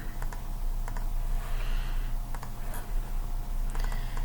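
Close clicking of computer keyboard keys in short bursts and pauses as a word is typed, over a steady low hum, with no voices.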